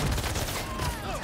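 Rapid gunfire from a helicopter in a Spider-Man 2 video game, a brief loud burst of continuous firing.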